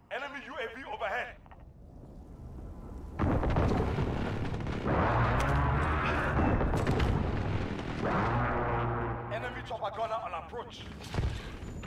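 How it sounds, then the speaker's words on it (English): Precision airstrike in the Modern Warfare shooter game, with heavy rumbling explosions and booms rolling for several seconds, loud and close, mixed with game noise and some speech. "Enemy precision airstrike inbound."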